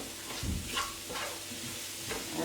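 Soft sizzling of mushrooms and onion frying in a pan with occasional stirring scrapes, fairly quiet and steady, no voices.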